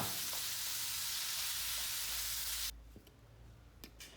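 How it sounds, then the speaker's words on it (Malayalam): Turmeric and chili powder sizzle and fry in hot oil for a Vatta fish curry, with a steady loud hiss that cuts off abruptly, followed by a few faint stirring clinks, close and with no voices. "മഞ്ഞൾപ്പൊടി, മുളക് പൊടി അതൊക്കെ ഒന്ന് ചേർത്ത് നന്നാക്കി പൊടികളൊക്കെ ഒന്ന് വഴറ്റിയെടുക്കാം"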